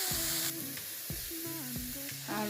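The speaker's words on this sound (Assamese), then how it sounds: "এয়া মই ইয়াত মাংস অলপ দিছোঁ" Chicken meat fries in a hot wok over lowered flame with a soft steady sizzle, while stirring scrapes and clanks sound at intervals up close, no talking.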